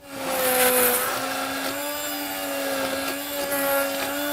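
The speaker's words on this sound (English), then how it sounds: "We're going to use the stick blender again." A stick blender whirs steadily at close range as it emulsifies olive oil in a kitchen, a loud, sustained motor whine with slight shifts in pitch and load as it is moved around.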